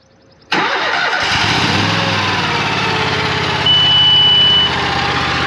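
A Kohler engine, freshly given an oil change, cranks briefly and catches, then settles into a loud, steady running drone up close, with a high electronic beep sounding partway through; no talk.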